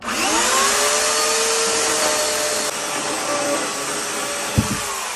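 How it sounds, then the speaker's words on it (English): A power tool cuts off the end of a board at a log cabin build, a loud continuous whining roar close by that holds steady for several seconds before a brief clunk near the end. "cut off the end of this board here, like that"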